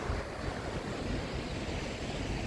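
Murky water rushes along in a steady, continuous wash near the Saptashrungi temple route at Vani, Nashik, a dense unbroken flow with some wind-like hiss and no voices.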